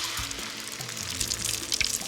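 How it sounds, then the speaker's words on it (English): Beaten eggs poured into a pan coated with hot olive oil for an Oaxacan omelet, giving a steady bright sizzle and liquid splash that runs close and continuous for about two seconds, with no talk. "Pour in the eggs."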